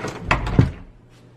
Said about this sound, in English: now I'll just leave the room and close the door.